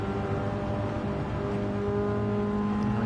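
Race car engine in a 1990s racing video game, held in fourth gear and pulling steadily under load, a constant droning tone with layered harmonics and no talk.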